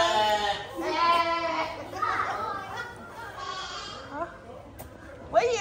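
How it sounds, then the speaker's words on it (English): Lambs on a farm bleat repeatedly in wavering cries, fairly close, with children's voices and chatter mixed in around them. "Oh, look at the lambs"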